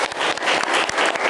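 Students in a civics class clap for their top-ranked classmates, a dense burst of many hands applauding steadily and close by, filling the room without pause.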